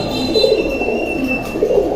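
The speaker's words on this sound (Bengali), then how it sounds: "তারপরে এই যে সাজ্জাদ ভাইয়ের কবুতরগুলা," Pigeons coo in low, soft, rolling calls, close by, repeating over a steady background hum with no talking.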